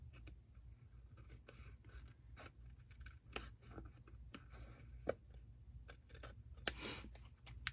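Scissors snipping through paper tags for a handmade tag book, a series of quiet, irregular cuts and light scrapes close by against low background hum.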